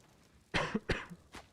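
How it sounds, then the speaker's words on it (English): Two sharp coughs close together, then a fainter third a moment later, near and loud against a quiet background with no talk, from a commentator covering a Counter-Strike esports match. "Sorry for the cough."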